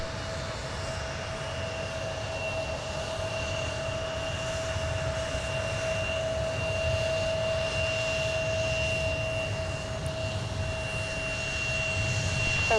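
Jet airliner departing from Minneapolis–Saint Paul airport, a steady, distant roar with a sustained whine that slowly swells over several seconds, heard alone without voices.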